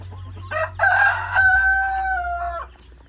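A single loud rooster crow close by, rising and holding for about two seconds before trailing off over a low background hum.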